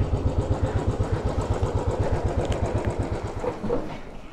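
A Royal Enfield Bullet motorcycle engine idling close by, its steady thumping single-cylinder beat loud and even throughout, easing slightly near the end with a faint clatter.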